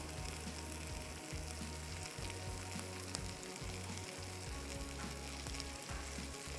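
African grilled chicken fries on very low heat, a soft but steady close sizzle with fine crackle running unbroken and no one speaking.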